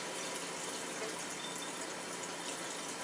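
Tap water runs steadily into a sink while wild greens are washed, a constant close hiss and splash without pause.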